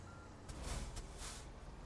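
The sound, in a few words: truck reversing beeps in a video game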